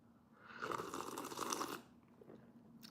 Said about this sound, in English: should I give it a good slurp?